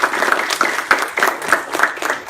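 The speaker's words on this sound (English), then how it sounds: "A round of applause for it." An audience at a careers panel event claps in steady applause for a couple of seconds. The sound is close, dense and even.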